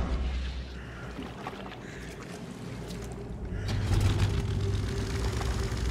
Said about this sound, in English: Holy cow, I can drive the boat.